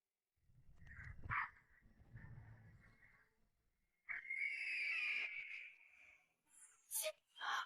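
A street dog lets out a short bark and growl, then a longer, louder snarling cry, with harsh, rough tones and brief bursts near the end against an otherwise quiet background.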